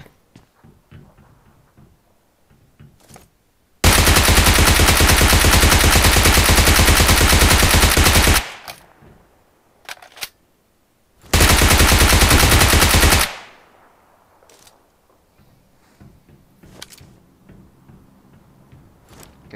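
Loud sustained bursts of shotgun gunfire in a multiplayer video game, two long rapid stretches of repeated blasts separated by brief gaps, with quieter game noise around them.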